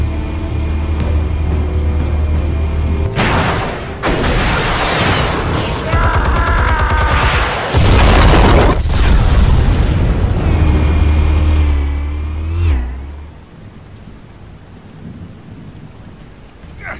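Explosives detonating in Batman: The Telltale Series game, a series of heavy booming blasts and rumbling debris layered over a loud low drone, then fading to a quieter tail.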